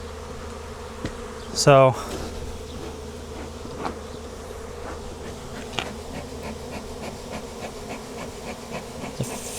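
A constant buzz of a swarm of wild bees near a barn hangs in the background throughout, with a brief sharp chirping sound near the start and faint ticking against the hum.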